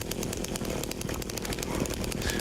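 A two-stroke chainsaw weapon from the video game Silent Hill 2 Remake runs at a steady, buzzing rev. The dense motor drone holds for the whole stretch with rapid pulsing and no voices over it.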